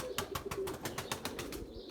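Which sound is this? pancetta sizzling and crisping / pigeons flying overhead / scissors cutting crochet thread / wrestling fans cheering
pigeons flying overhead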